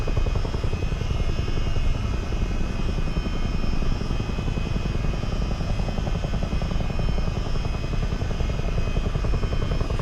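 Rotor thump and turbine whine of a CH-47 Chinook in Microsoft Flight Simulator form a steady, loud, rhythmic chop with a high engine tone, continuing unbroken throughout with no voices.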